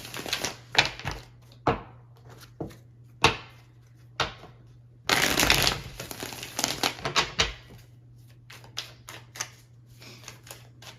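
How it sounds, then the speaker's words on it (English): Tarot cards being shuffled and pulled from the deck, heard as a run of sharp papery snaps and flicks with one longer riffling burst midway, close and fairly quiet, with no talking. "Keep pulling cards for you."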